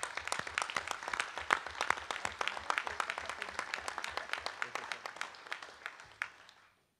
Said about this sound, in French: il mérite les applaudissements de tout le monde ici ce soir